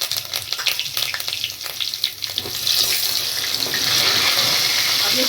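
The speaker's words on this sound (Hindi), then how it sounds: "कड़ी पत्ता डाल रही हूँ।" Curry leaves hit hot oil for a rasam tempering with cumin, mustard seeds and asafoetida, and crackle and spit at first before settling into a loud, steady hiss.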